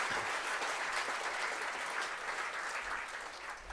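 An audience at a formal ceremony marking the founding of Tilsit breaks into full, steady applause, a dense continuous clapping that holds loud and even before easing slightly at the end.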